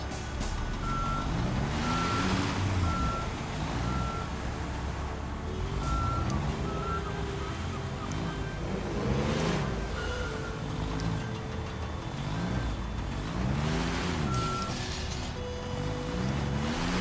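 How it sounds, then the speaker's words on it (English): A truck in the video game Construction Simulator reverses with a steady pattern of electronic backup beeps over a droning engine that repeatedly swells as it revs. "I hate this with these trucks that they made them so that they sit there and rev up and rev up and rev up before they'll move."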